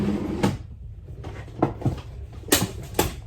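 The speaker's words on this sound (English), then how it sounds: "Let me get the drawer open, show you what I do." A wooden drawer or cupboard being opened and handled indoors, with a few short knocking clunks and rattles spread across a few seconds, close and moderately loud, no talking.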